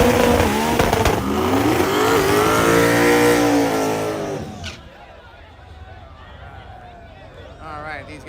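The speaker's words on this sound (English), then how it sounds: "these guys have done a heck of a burnout" A 1968 Chevy drag car roars through a burnout at a drag strip, its engine revving hard and loud for several seconds before the sound drops away to quieter crowd noise and talk.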